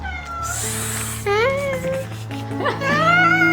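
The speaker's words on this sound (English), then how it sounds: "This is the sound of the cat." A cat meows several times, drawn-out rising and falling cries, close and fairly loud, with a steady background hum.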